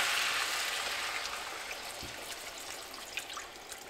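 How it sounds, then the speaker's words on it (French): Water poured into a pot of squash soup ingredients seasoned with nutmeg, pepper, salt and garlic powder, a soft continuous trickle and splash that fades slightly, close and quiet with no voices. "Ensuite, on va couvrir d'eau."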